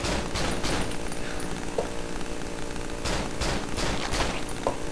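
Gunfire while shooting a boss in the video game Cry of Fear, a loud, dense volley of shots layered over constant chaotic noise, with a few sharper bursts standing out.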